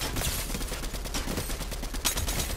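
An assault rifle fires in the video game Fortnite as dense, continuous automatic gunfire, loud and rapid, with overlapping shots filling the whole stretch.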